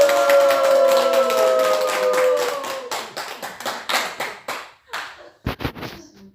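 A group at the close of a laughter therapy class claps together, loud and dense at first with a sustained voice-like tone underneath, then thinning into scattered, uneven claps that trail off.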